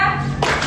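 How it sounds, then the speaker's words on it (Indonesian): A class claps hands together in a quick burst of rhythmic claps, loud and close, that starts partway through. "Tepuk 3 Tepuk tiga 4 kali."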